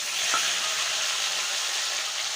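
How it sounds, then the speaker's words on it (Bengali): Potatoes frying in a wok, a dense, even sizzle and crackle of hot oil that holds steady and close throughout, with a faint stir or tap early on. "আমি আলুগুলো ভেজে নেব"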